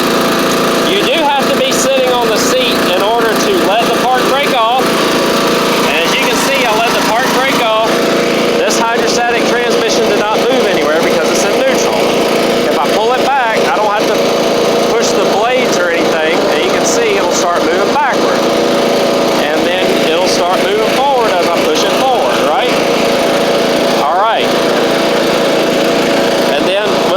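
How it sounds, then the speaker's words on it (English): Craftsman LT1000 riding lawn mower engine running steadily and loudly close by for the whole stretch, with someone speaking continuously over the drone. "Now, whenever you have the mower running, we'll crank it back up again."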